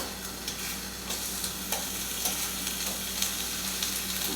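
Bacon frying in a hot pan, a steady close sizzle and crackle with scattered pops and occasional utensil clicks, no voices.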